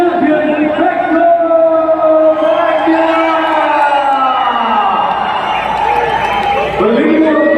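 A large crowd at a MotoGP Bharat event cheers and applauds winner Marco Bezzecchi. The roar is loud and steady throughout, with whoops and voices layered into a dense, continuous wall of noise.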